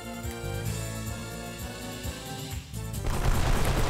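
Rapid volleys of gunfire from the Wild ARMS 3 video game, sharp shots in quick succession over a loud game soundtrack, ending in a crackling burst.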